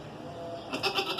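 Healthy young goat bleating: a single short, faint bleat rising near the end over a steady low background hiss.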